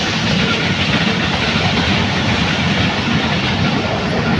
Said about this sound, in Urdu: سامنے سے ٹرین گزر رہی ہے